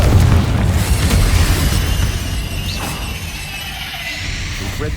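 A Confringo blasting curse from Hogwarts Legacy erupts in a loud, sustained explosive rumble with a whooshing roar that slowly fades over several seconds, heavy and close.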